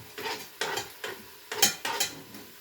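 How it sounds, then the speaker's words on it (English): A knife scrapes chopped onion off a cutting board into ground beef, making several short rough scraping strokes in an uneven rhythm, close and fairly quiet. "Let's take all of our onion and throw it into our ground beef. Use the back of the knife to scrape it down."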